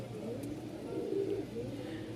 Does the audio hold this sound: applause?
no